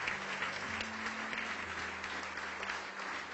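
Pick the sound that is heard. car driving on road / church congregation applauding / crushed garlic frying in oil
church congregation applauding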